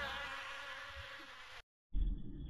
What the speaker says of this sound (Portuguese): Esse jogo aqui, ele tem esse somzinho de mosquito, bem alto.